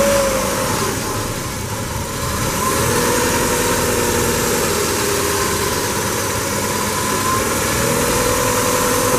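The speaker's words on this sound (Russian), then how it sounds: "Работа двигателя на холостых оборотах." A Kia P80E engine for a 2000-2005 Rio, about 148,526 km, idles steadily at a low, even rumble, loud and close, with no voices.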